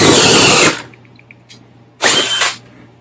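A cordless hammer drill, a DeWalt or Ridgid, running loud and close in two bursts: a longer run at the start, then a short pause with faint clicks, then a second half-second burst.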